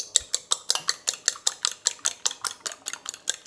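An egg is whisked briskly in a dish with a fork, giving a steady run of sharp, rhythmic clinking taps, close and clear, about four strokes per second with no talking.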